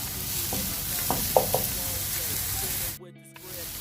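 Onions sizzling in a pan and stirred now and then by a spoon, giving a steady frying hiss with a few scraping clicks before a sudden cut to near silence.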